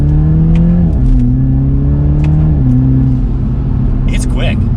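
A 2021 Toyota GR Supra with the 2.0-litre four-cylinder accelerates hard, its engine droning loud and near as it climbs through gears, with two audible shift dips, while someone speaks over it.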